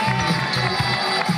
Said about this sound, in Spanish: fuerte el aplauso para el campeón 2019